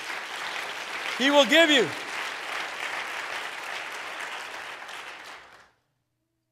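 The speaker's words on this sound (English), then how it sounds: "Clap your hands to the Lord." A church congregation claps together in a sustained burst that swells, then slowly fades to silence, while a preacher's voice rises briefly over it near the start.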